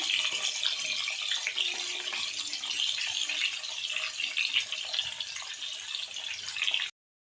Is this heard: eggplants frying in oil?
yes